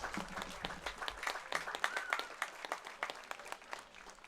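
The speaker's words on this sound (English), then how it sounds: "another round of applause and a big thank you to our 2025 Miller Express billet families" Crowd applause at a Moose Jaw Miller Express baseball game, a steady patter of many hands clapping from moderately far away, continuing throughout.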